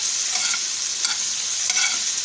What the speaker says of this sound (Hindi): हमारे टमाटर अच्छे तरीके से फ्राई हो रहे हैं।